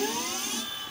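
Electric scooter hub motor spinning up forwards on a homemade e-scooter build, a steady high whine with rising tonal harmonics, close and continuous, alone with no talk.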